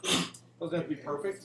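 A single sharp sneeze bursts out in a classroom at the start, followed by a teacher talking in a normal voice.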